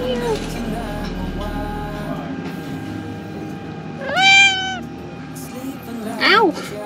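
A cat at a private villa in Ubud, Bali gives two clear meows a couple of seconds apart, close and fairly loud, over a soft background hum.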